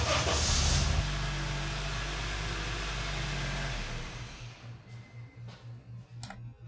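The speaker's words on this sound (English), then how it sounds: "it's a car, and it looks like it starts up. So I just got the car sample, car street, short." Short street car sound-effect sample: a car engine starts with a loud burst and rough roar, then settles into a steady, pulsing idle as the level falls away.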